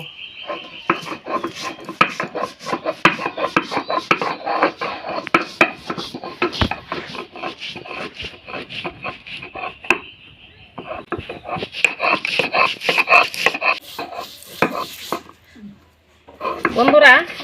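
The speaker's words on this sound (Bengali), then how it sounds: "এই পাতাটা আমি এই শিল নড়াতে বেটে নেব জল দিব না" Dry leaves ground by hand on a stone grinding slab (shil-nora) without water, giving rhythmic scraping and knocking strokes that continue steadily, pause briefly, then resume, with speech heard over them.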